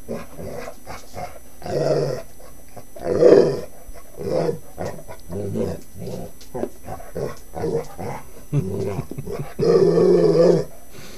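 A pit bull growls and makes drawn-out, talkative grumbling vocalizations in repeated bursts, close by.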